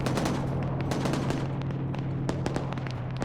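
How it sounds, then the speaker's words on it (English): Game battle soundscape in a combat video game, with a continuous wash of rapid gunfire and sharp shots, plus a muffled distant explosion rumbling underneath, dense and steady throughout. "We just heard some sort of distant explosion."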